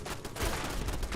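Automated turrets fire a dense burst of gunfire in Fallout 76, a brief, loud rattle of rapid shots close by, with no voices.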